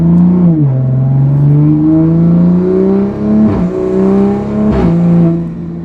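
A loud turbocharged Toyota Supra engine revs up and down, its pitch rising and falling, with sharp bursts as the throttle shifts, close and continuous.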